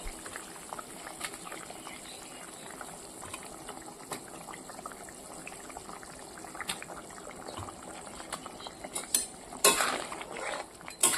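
Fish curry simmering with added broth in a pot, a soft continuous bubbling with small liquid splashes and a few utensil clinks, growing a little louder and busier toward the end.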